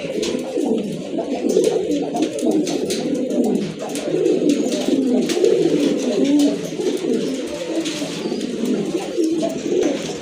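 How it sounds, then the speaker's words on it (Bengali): Pigeons at a pigeon sale, including large red birds, coo continuously and close by in overlapping, repeated calls with no talk over them. "আরেক জোড়া কবুতর লাল পাত্রীর"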